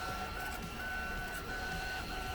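A 3D printer steadily prints a large air-filter housing in separate parts, its continuous whirring motor hum broken by high stepper-motor tones, close and alone without speech.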